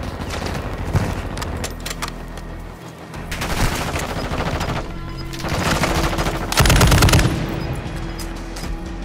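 Rapid automatic gunfire in the video game Warzone 2 comes in loud bursts of fusillade, separated by short lulls, with a heavy sustained burst near the end.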